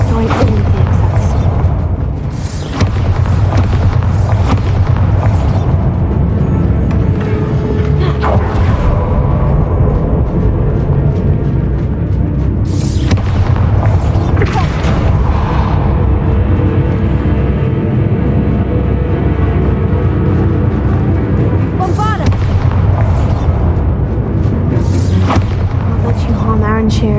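Repeated Bombarda blasting-spell explosions in Hogwarts Legacy boom heavily through dense, constant game noise, with several sharp bursts spaced irregularly and a voice speaking throughout.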